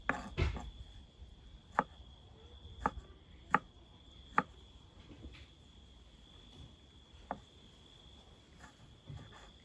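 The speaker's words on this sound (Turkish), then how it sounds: "Evet ben bunları doğrayayım öyle geleyim." Several sharp knife chops through vegetables on a board, spaced irregularly and fairly close, over a faint steady high hum and quiet background.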